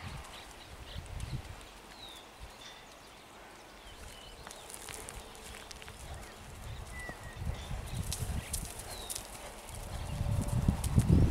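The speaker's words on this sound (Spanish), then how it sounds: "Galope cómodo" A chestnut working ranch horse with four white socks, a gentle animal trained for cattle work, moves at a comfortable gallop in the open. Its hoof beats come as a steady, moderately loud rhythm amid outdoor ambience and grow stronger toward the end.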